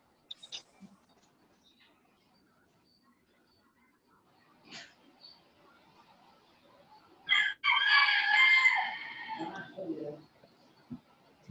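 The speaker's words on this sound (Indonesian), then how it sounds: "Ayam tolong dikondisikan." A chicken crows nearby, one loud drawn-out call after mostly quiet moments with faint scattered clucks and noises.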